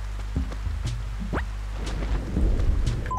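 Rain falls during a thunderstorm in the Animal Crossing video game, a soft steady patter with low rumbling underneath and a few scattered brighter game tones and blips.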